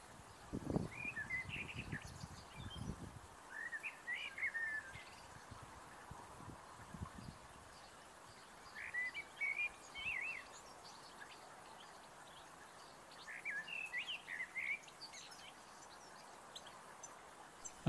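Goldfinches and other small birds chirp at a garden feeder in short clusters of high twittering calls, repeating every few seconds against steady outdoor background noise, with a brief low thumping near the start.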